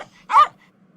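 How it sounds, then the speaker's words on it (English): A single short dog bark used as an audiobook sound effect, sharp and close, set against near silence before and after. "started barking again"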